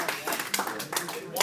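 Audience clapping at a political rally, a scattered burst of hand claps from a crowd, fairly close and steady for a brief moment with voices mixed in.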